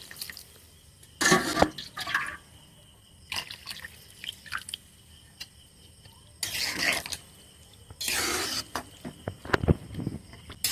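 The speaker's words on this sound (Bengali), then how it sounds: "গরম জল অ্যাড করছি।" Hot water poured into a pot of Bengali bhog khichuri: intermittent splashing pours and drips in several short bursts, close and fairly quiet, with no talking.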